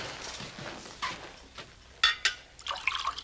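Drinking water is poured in a Western drama scene, with a few brief splashy bursts and trickles close by over a quiet background.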